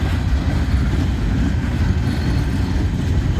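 Train on the main line, a steady low rumbling roar of rolling railcars close by, continuous and even for the whole stretch.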